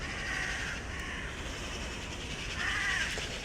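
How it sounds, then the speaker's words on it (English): Crows cawing outdoors during a morning yoga session, a couple of harsh calls rising over a steady wash of background noise, moderately distant. "We have a beautiful concert here today with the birds."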